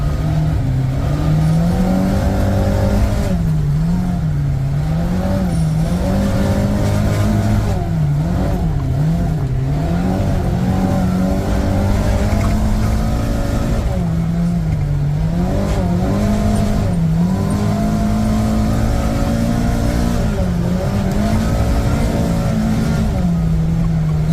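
A Kawasaki Ridge side-by-side engine drives laps, loud and close throughout, its revs rising and falling in repeated waves as it accelerates and eases off, with occasional tire scrub.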